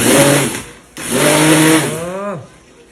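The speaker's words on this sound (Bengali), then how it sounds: "কাজু কিশমিশ বাটবো এখন" An electric mixer grinder whirs loudly while grinding cashews and raisins, running in two bursts with a brief pause between them and winding down at the end.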